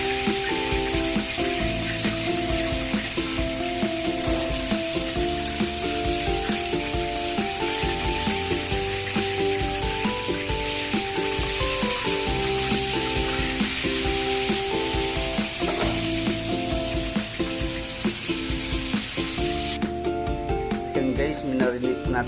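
Chicken marinated in garlic, onion, black pepper and cornstarch fries steadily in hot oil, a continuous close crackling sizzle that runs without a break and brightens in the final seconds, with background music underneath.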